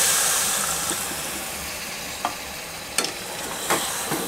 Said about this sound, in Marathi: त्याला फ्राय होण्यासाठी थोडंसं नारळ पाणी टाकून घ्यायचं।